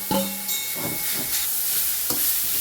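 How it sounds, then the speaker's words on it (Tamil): Grated beetroot hits hot oil in a pan with a loud sizzle and steamy hiss, followed by a few stirring scrapes and renewed bursts of frying as it is sautéed. "நான் இது ஒரு 2 பீட்ரூட் சீவி வச்சுருக்கிறேன். இதை போட்டு வதக்கிக்குவோம்."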